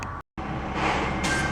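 A truck roars loud and very close in a short burst of heavy engine and road noise. There is a brief gap of silence, and then the noise swells again.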